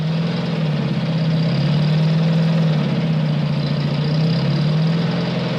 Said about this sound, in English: They send over bulldozers to level out the site.